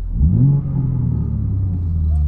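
A sports car engine rumbles through its exhaust and briefly revs upward before settling into a steady low idle, close and fairly loud.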